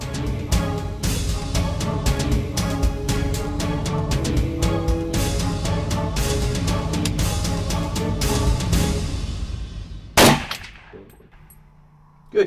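A hunting rifle fires once at a deer from a deer blind: a single sharp, loud crack near the end, cutting through steady background music, then a brief echoing decay.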